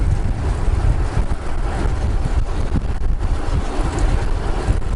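Strong headwind buffeting the microphone on an asphalt track, a loud continuous low roar with gusty rumbles throughout and no talk.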